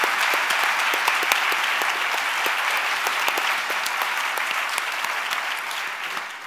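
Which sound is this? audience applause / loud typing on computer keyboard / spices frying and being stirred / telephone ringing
audience applause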